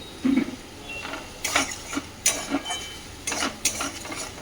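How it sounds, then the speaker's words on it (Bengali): Spice paste for a bottle gourd greens curry is stirred and fried in a pan, with a series of scraping, clinking spatula strokes over a faint, low sizzle. "এদিকে লাউ শাকের চচ্চড়িটা হচ্ছে মশলাটা কষছি"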